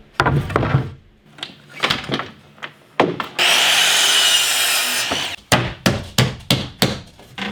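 Sawing wooden 2x3 boards for a bed platform inside a converted school bus, with a run of sharp knocks and bursts of short strokes, then a continuous saw pass of about two seconds, followed by a series of quick, evenly spaced close strikes.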